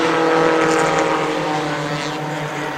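Stock cars racing two wide at Columbus Motor Speedway, a dense, steady engine roar from several cars that holds loud and unbroken throughout.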